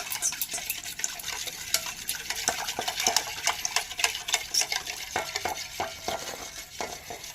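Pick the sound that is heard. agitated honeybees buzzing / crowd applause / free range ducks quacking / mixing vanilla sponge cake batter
mixing vanilla sponge cake batter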